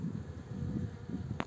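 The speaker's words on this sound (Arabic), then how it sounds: "الشيء الملاحظ أن النحل بدأ يجمع العسل" Honey bees buzz around a beehive with honey-filled frames, a soft low drone that hums faintly and steadily throughout, with one brief sharp click near the end and no talk.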